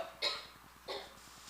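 In a classroom, two short dry coughs, about half a second apart, fairly close, over a faint steady background hum.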